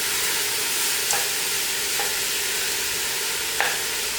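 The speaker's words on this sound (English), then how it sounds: "All you're doing at this point is browning it. So just stir it around." Ground beef browning in a pan for low-fat chili, a steady loud sizzle running throughout with a few faint scrapes of stirring on top.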